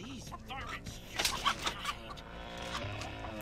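A chicken clucking in The Texas Chain Saw Massacre video game, a few short clucks under background game sounds, with a brief louder burst in the middle.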